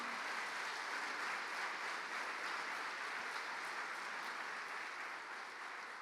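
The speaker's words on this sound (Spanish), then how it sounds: "Si le vas a dar un aplauso, dáselo a él." Steady audience applause fills a church testimony hall, a dense, even wash of clapping that holds for several seconds without a break and fades only slightly at the end.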